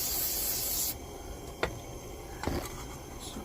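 Carburetor cleaner is sprayed from an aerosol can onto an Air-O-Lantern in one steady close hiss lasting about a second, followed by quieter rubbing and a couple of small knocks, with no talking.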